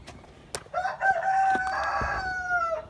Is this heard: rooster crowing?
yes